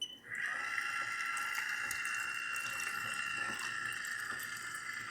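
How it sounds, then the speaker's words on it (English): Liquid pours in a continuous, even stream throughout, a faint steady rush with no talking, as preheat bath liquid fills a home film processor for developing 35mm film. "Turned out a really bad job pouring that."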